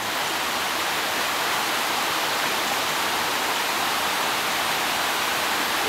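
A waterfall pours in a steady, dense roar of rushing water, loud and unbroken from start to finish with no voices over it.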